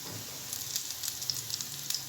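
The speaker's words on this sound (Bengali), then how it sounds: "আস্তে আস্তে ভাজা হবে।" Steady oil sizzle from potato peels frying over low-to-medium heat, with small crackles and pops scattered throughout, close and moderately loud, no voices.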